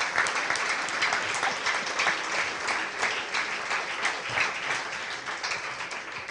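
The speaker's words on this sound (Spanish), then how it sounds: "Denle un aplauso al Señor." A church congregation applauds together, steady mid-distance clapping sustained at even volume across the whole stretch.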